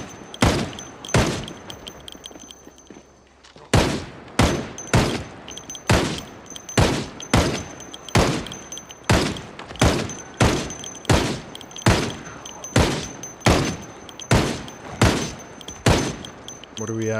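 Gunfire in Project Zomboid rings out as a long run of loud, sharp single shots, roughly one every second after a brief pause near the start, each one cracking and then decaying quickly.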